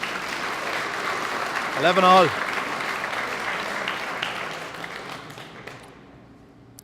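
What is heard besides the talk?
crowd applause at a softball final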